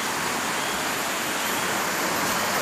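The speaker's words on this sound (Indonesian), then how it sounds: "Ada sungai." A river near a rubber plantation flows in a loud, constant rushing wash, close and unbroken, with no talk.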